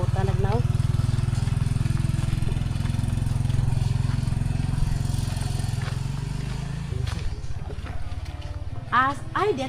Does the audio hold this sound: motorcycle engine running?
yes